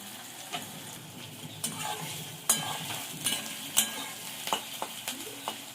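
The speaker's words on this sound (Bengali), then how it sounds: "তেল দিয়েছি, তেলটা গরম হয়ে গেছে। পেঁয়াজটা বেরেস্তা করে নেবো।" Sliced onions fry in hot white oil for biryani, giving a soft continuous sizzle close by, punctuated by sharp scraping taps of a spatula stirring against the pan.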